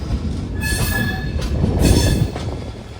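A train rumbles steadily along the rails, with metallic wheel squeals and rhythmic clatter rising and falling, loud and close, with no voices, heard aboard an AC train from Bengaluru SMVT to Tirupati.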